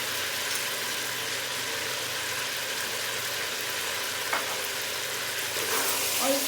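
Garlic and ginger paste fries with mutton pieces in a pot for white mutton pulao, producing a steady close sizzle with a faint low hum underneath and no talking.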